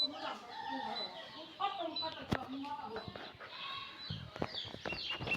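Chickens roaming outdoors cluck and call repeatedly at moderate distance, with a few sharp knocks and a voice talking over the birds.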